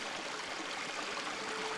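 Creek water flowing steadily through a valley, a soft continuous rushing wash with no breaks and no voices.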